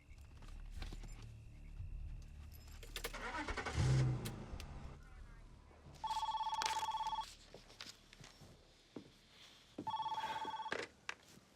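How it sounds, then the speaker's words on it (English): A car engine starts and revs as the car pulls away, a low, fairly faint rumble followed by two bursts of a ringing telephone. "Start the car."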